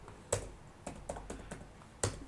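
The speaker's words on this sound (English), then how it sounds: "I'm just typing some random thing" Keys clack on a computer keyboard during spreadsheet work, a handful of sharp, close taps in an uneven rhythm with brief pauses, heard alone in a quiet room.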